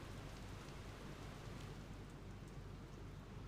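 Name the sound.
rain in the video game AFK Journey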